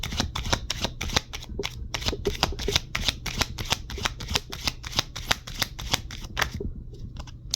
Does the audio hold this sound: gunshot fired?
no